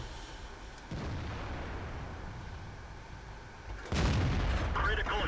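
Two heavy gun blasts ring out from a T25/2 tank in World of Tanks, one near the start and a louder one near the end, each followed by a rumbling tail over engine noise.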